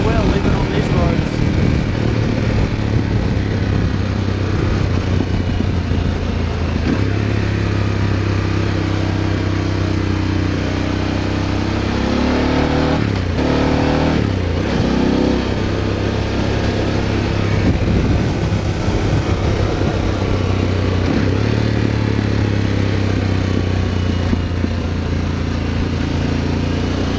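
A Harley-Davidson Pan America motorcycle rides along a rough gravel road, its engine droning steadily and loudly throughout with some clatter and shifts in pitch as the rider works through the ride.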